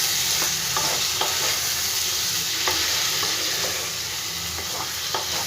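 Potatoes and spices frying in a pan as a little spice-rinsing water goes in, a dense continuous sizzle punctuated by regular clicks and scrapes of a stirring spoon, close and loud without speech.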